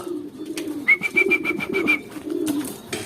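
Racing pigeons in a club loft coo softly and repeatedly in a steady low murmur, with a thin high whistle-like tone running through the middle and no talk.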